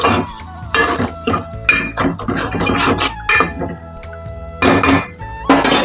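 Tomato puree being stirred and fried in a pan, with repeated metallic scraping and clinking of a spoon against the pan, steady and close, over a light background sizzle.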